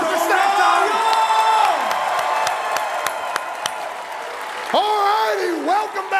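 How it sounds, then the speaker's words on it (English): A late-night show studio audience claps and cheers, with whoops and yells rising over continuous applause that holds steady and swells again near the end. "Everybody, let's give a round of applause for Snack Time."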